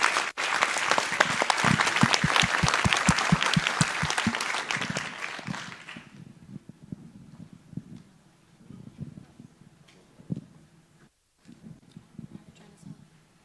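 Loud crowd applause at a conference closing session fills the first six seconds, then fades out into scattered claps and murmuring voices in a large room.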